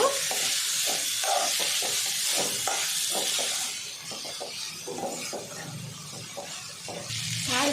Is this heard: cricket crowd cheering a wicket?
no